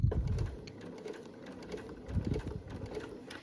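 Sewing machine stitching an apron pocket, a quiet mechanical whir with soft repeated clicks, a short run that slows then picks up again, fairly close with no talk.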